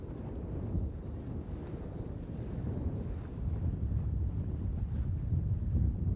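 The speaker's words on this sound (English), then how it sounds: "we're getting some wind" Wind buffets a microphone out on open water during a smallmouth bass fishing trip, a continuous low rumbling roar that grows slightly stronger toward the end, with no voices heard.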